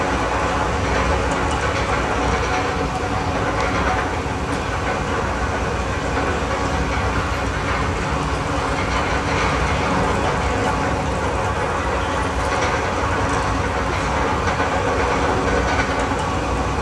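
Loud, steady rumble and roar of a ride on Cedar Point's Valravn dive roller coaster, with a continuous rattling, clattering track noise running the whole time and no voices.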